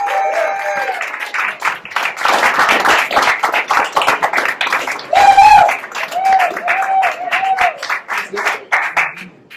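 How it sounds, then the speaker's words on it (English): Audience at an evening event welcoming a Maryland state delegate claps and cheers in bursts, with whoops and excited voices mixed through the applause. "Keep clapping."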